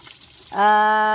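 Food drops into hot oil in a pan at a provincial home kitchen, a quiet moment giving way abruptly to loud, steady close sizzling frying.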